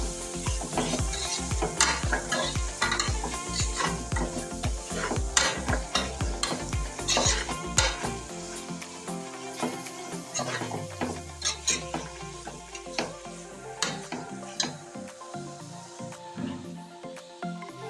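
Biryani masala mixture is stirred in a pan with a spoon, giving rhythmic scraping strokes over a sizzle that is steady at first, then sparser, quieter stirs with clinks near the end.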